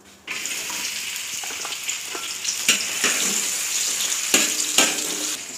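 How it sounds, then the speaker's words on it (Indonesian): Onion sizzling as it is sautéed in warm oil, with a steady, fairly loud frying hiss and occasional clinks and scrapes from stirring. No one speaks. "Kalau minyaknya udah sedikit hangat atau udah mulai memanas, kita tumis yang pertama ini bawang bombay."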